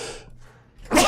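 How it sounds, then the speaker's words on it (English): Nearby person gives a sharp, explosive sneeze, preceded by a quick breathy intake and a short hush, the burst landing loud at the very end. "A little bit of a sneezing fit there."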